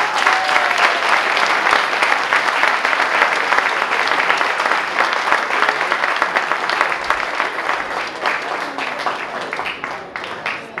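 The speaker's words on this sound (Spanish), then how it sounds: "Un gran aplauso." Sustained audience applause at a wine awards ceremony, loud and dense clapping that holds steady before easing slightly near the end.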